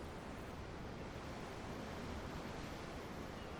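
A constant rush of ocean waves from Tales of Arise, heard from a ship at sea, keeps up a dense, unbroken hiss at moderate level with no speech.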